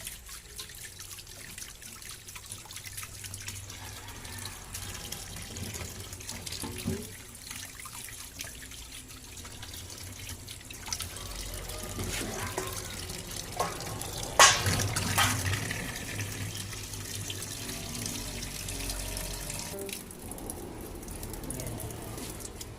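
Food is washed by hand under a running kitchen tap, water trickling and splashing steadily into the sink with occasional louder splashes and handling sounds, a voice speaking faintly in places.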